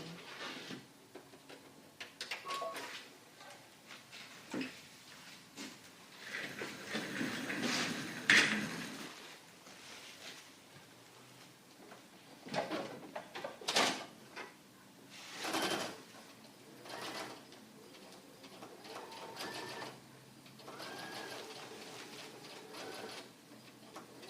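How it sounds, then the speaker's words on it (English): An embroidery sewing machine runs a basting stitch in short, uneven bursts of moderate mechanical whirring and tapping, with brief pauses between runs and no voices. "I'm going to take up that tip from our team and actually do a basting stitch first"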